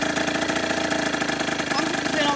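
A motorcycle engine running steadily just after starting, a loud, even mid-pitched idle with a rapid pulsing beat throughout and a voice talking over it.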